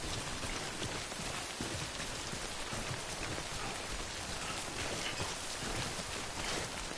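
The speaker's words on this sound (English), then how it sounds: "Fucking rain, dude." Heavy rain pours continuously in Death Stranding, a dense, even hiss of falling water with no talking over it.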